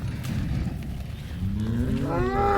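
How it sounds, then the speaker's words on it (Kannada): A cow lets out a loud, drawn-out moo close by, rising near the end over a low rumbling background, among cows and heifers for sale near Davangere, India. "ಪಡ್ಡೆ ಕರುಗಳು ಇದ್ದಾವೆ ಪಡ್ಡೆ ಹಸುಗಳು ಇದ್ದಾವೆ"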